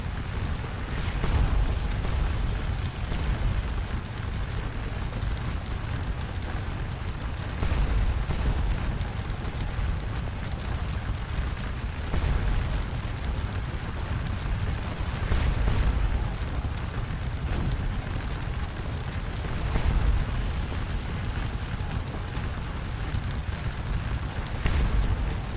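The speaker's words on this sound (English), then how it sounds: "Because we have a lot of cannons around us now," Cannon fire in the Napoleonic battle game Scourge of War Waterloo, a steady dense rumble of booming artillery that swells in several heavier bursts over a continuous battlefield roar.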